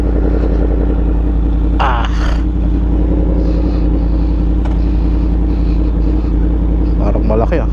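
A Yamaha MT-10SP motorcycle engine idles and rumbles steadily at close range on a test ride, with brief throttle blips rising around the two-second and seven-second marks, while people talk over it.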